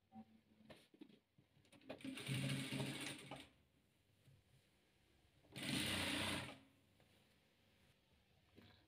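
A sewing machine stitches the last row of a white and blue rhombus patchwork quilt in two clear running bursts, each a few seconds long, with quiet handling noises in between.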